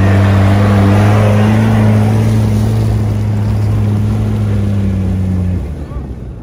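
A car pulls away hard in a diesel-versus-petrol race, its engine droning loud and steady with a deep hum for several seconds before the sound drops off and fades near the end.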